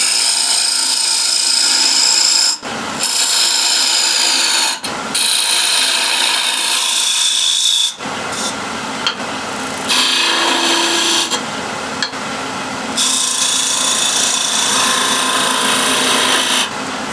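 A wood lathe takes a planing cut in scrap wood, a loud, steady hissing scrape that runs on and off in several passes with brief gaps between them.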